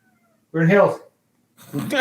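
One clear, rising meow from a nearby cat, then a person begins talking.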